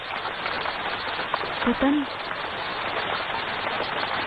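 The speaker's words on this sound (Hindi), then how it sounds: "शायद बारिश हो रही है।" Steady rain falls on an island in an action adventure film, a dense continuous hiss throughout, with a brief spoken line over it.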